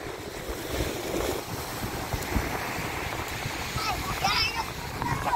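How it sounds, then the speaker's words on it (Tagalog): Strong ocean waves wash at a beach resort in San Narciso, Zambales, a steady rushing surf with gusty wind buffeting the microphone while people talk faintly nearby. "Lakas ng alon dun sa kabila."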